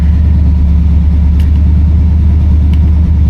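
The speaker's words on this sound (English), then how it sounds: "The fan is blowing, obviously, for heat. It's a little bit loud" Heater fan in a 1969 Buick Electra 225 blowing loudly, a steady dense whoosh and low rumble that holds unbroken throughout, close and constant.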